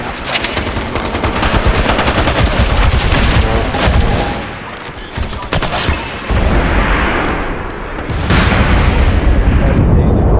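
Turret gunfire in MAG, a military shooter, during a platoon's defence of Aralkum against Valor: dense, loud bursts of automatic fire and booming impacts, briefly easing midway before resuming.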